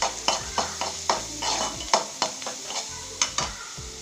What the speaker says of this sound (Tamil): சேர்த்து நல்லா வதக்கி விட்டுட்டு